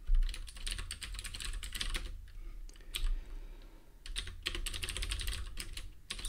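Rapid clattering of a computer keyboard as code is typed in bursts, with a short pause in the middle, close and fairly quiet, with no talking.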